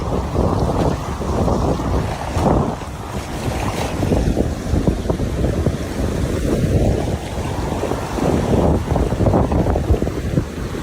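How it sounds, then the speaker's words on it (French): Strong winds roar steadily across the region, a loud continuous rushing with heavy gusts buffeting the microphone and a surf-like wash beneath, unbroken for the whole stretch with no voices. "Des vents très forts soufflent sur la région."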